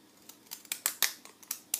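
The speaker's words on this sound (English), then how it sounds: "I'm going to run the scissors on the bottom edge here to give it a nice scalloped edge" Decorative scalloped-edge craft scissors snip along the bottom edge of paper packaging, a series of about eight crisp, close cutting clicks spaced in a quick, slightly uneven rhythm with no talking.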